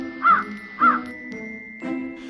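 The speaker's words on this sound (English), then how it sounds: "The crow landed gracefully next to the pitcher" Two loud, harsh crow caws close by in quick succession, then a third softer, rougher call, alone without talk.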